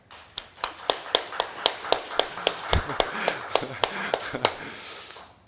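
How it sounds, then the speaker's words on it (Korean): A church congregation claps together in a steady, even rhythm, about four sharp claps per second, ending after several seconds. "우리의 하나님께 영광의 박수 올려드리겠습니다"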